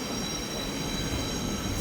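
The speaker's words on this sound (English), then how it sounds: "I think I can hear the train coming in." A train on the Central to Newcastle Interchange route is heard at the station, a steady rumbling rail noise with a faint high metallic squeal above it, moderately loud and continuous.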